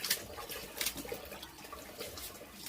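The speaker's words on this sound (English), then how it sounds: "pour enough water in here to make it, like I said, like a pancake or milkshake consistency" Water pours and splashes into a container of investment casting powder being mixed for gold grillz casting, a soft, close trickling and sloshing with uneven bursts.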